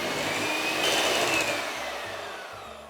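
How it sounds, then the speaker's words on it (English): An electric mixer beating buttercream with icing sugar and vanilla, a steady whirring motor hum running continuously and close up, easing slightly toward the end, with no talk. "I'm going to mix this now for about 3 minutes"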